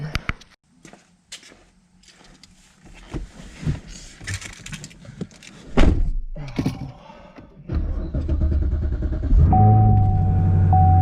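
Someone climbs into a 2016 Chevrolet Camaro: shuffling and rustling, then a loud door thud, followed by a low cabin rumble and a steady electronic chime tone.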